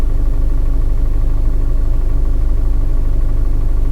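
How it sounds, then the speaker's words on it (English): A Hyundai Grand Creta diesel engine idles with a steady low rumble and a faint rhythmic clatter from under the bonnet, continuous and fairly loud, with no one talking. "You can hear that sort of familiar diesel clatter coming from the bonnet."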